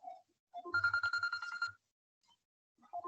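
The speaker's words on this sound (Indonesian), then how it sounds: "sebentar ya, ada telepon." A telephone rings once with a rapid electronic bell trill lasting about a second, fairly clear and close, between brief snippets of a voice.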